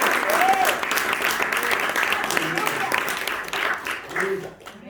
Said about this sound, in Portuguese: Será que você pode aplaudir o Senhor?